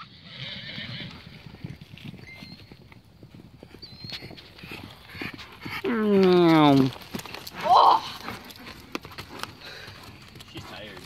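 Horses neighing with hooves clip-clopping during a ride, a steady patter of hoofbeats with a loud close whinny in the middle and a shorter neigh soon after, while people talk and laugh nearby.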